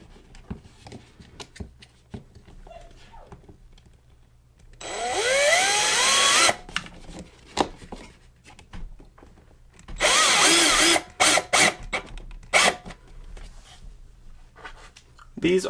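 A power drill driving the supplied screws into a wall to mount a Blink Mini indoor security camera, two close whirring bursts of a few seconds each with short trigger blips between.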